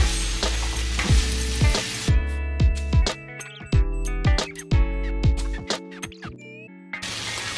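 Vegetables and bell peppers sauté for a Congolese red bream fish stew, with steady frying sizzle and repeated scraping stirs knocking against the pan, then a brief quieter gap before the sizzle returns.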